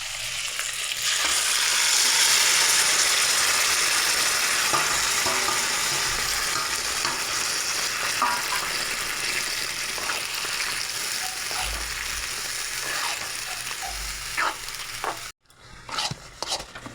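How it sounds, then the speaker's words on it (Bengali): Boiled taro leaves, cooked with salt and green chilli and topped with turmeric, fry in oil with a strong crackling sizzle and occasional scraping stirs, briefly cut off near the end. "আর একবার এটা তেলে দিয়ে দেবো"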